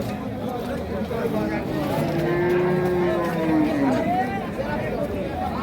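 A cow at a cattle sale gives one long, low moo over the steady hubbub of a crowd of people talking nearby.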